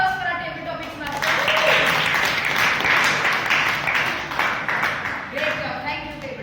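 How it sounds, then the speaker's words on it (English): Applause from a Toastmasters club meeting audience for the table topics master: a burst of clapping swelling up after a voice, holding for several seconds, then fading as talk resumes. "applause for our table topics master"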